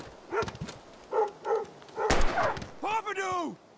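In the video game Life is Strange, a dog yelps and barks in short, close bursts, with a panicked pained whine at the end, amid tense shouting in a confrontation.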